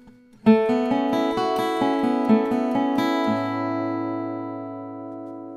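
A guitar phrase whose notes overlap and ring out together, finishing on a sustained chord that slowly fades. Played alone, close up.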